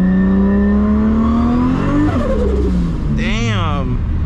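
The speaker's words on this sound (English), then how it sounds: "I was not even half throttle and it spun the tires" A car in the Tarkov racing game revs hard, its engine tone sweeping up and down as the tires spin and squeal, loud and close, with a rising warbling whine near the end.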